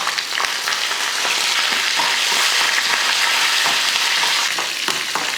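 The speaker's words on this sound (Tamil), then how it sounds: "எண்ணெய் காஞ்சதுமே கொஞ்சம் கடுகு உளுந்து, 1 ஸ்பூன் அளவுக்கு கடலைப்பருப்பு நல்லா பொன்னிறமாகட்டும்." Mustard seeds, urad dal and chana dal fry in hot oil for tempering, giving a loud, close, continuous sizzle with faint crackles and stirring scrapes throughout.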